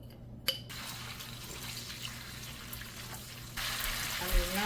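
Liquid shrimp paste is poured into hot oil for sautéing, a continuous close pouring and sizzling wash with a sharp tap near the start and a louder surge of frying toward the end.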